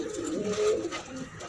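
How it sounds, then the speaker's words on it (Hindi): Patiala pigeons coo softly at a pigeon market, giving a few low, rolling calls close by with no talk over them. "भाई ये 22-23 कबूतर हैं सेल के लिए, गोले पटियाले कबूतर भाई"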